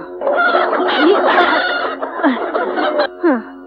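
A rooster clucks and crows nearby, loud and close, in a run of throaty calls with short rising cries and brief pauses near the end, alone without talk.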